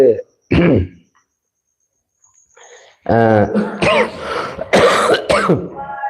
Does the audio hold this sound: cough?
yes